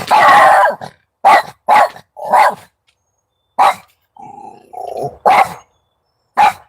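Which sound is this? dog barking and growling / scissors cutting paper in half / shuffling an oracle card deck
dog barking and growling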